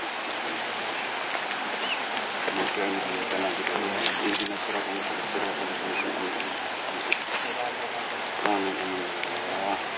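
Steady rain pours down at a house in Indonesia, a constant hiss with scattered drips lasting throughout, with people talking over it.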